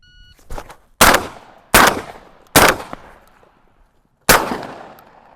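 Four loud, sharp blasts from an Impala Plus 12-gauge shotgun, fired one at a time at uneven intervals, each shot ringing out and fading before the next, with no talking in between.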